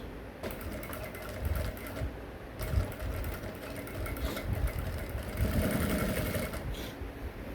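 A sewing machine stitches down the neck piping on an Ankara fabric top, a steady run of fast needle clatter with slight surges in speed, close and continuous.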